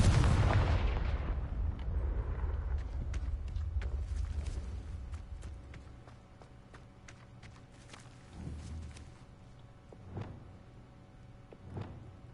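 A Confringo blasting spell in Hogwarts Legacy goes off with a loud, booming burst that trails into a long rumbling decay, followed by a few fainter, scattered impacts and thuds.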